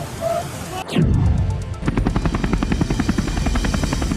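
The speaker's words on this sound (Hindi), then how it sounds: "अमरनाथ यात्रा में चिनूक हेलीकॉप्टर भी बेहद अहम रोल अदा कर रहा है।" A Chinook heavy-lift helicopter flying on the Amarnath Yatra route, loud and close, with a sharp whoosh of a pass followed by the steady thudding chop of twin rotors.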